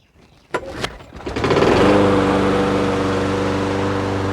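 A Toro Recycler lawnmower engine starts with a couple of sharp pulls, catches and settles into a loud, steady close-up running drone.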